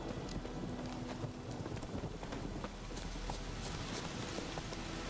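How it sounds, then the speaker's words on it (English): Horse hooves clip-clopping in the video game The Witcher 3, a steady rapid run of faint hoofbeats over soft background noise, heard alone. "There's my horse, there's my horse."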